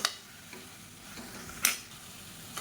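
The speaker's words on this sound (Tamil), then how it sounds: "இப்போ இதே எண்ணெயில் சேர்த்து வதக்கி விட்டுக்கலாம்" Thin radish slices sautéing in oil, a soft continuous sizzle with a few faint stirring clicks and one brighter utensil clink, close but fairly quiet.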